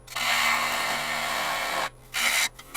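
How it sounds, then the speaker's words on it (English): Small gouge cutting highly figured English walnut spinning on a wood lathe, a close, loud continuous hissing scrape that stops briefly, then resumes in a short second pass. "Let's come the other direction now. Still using the smaller gouge."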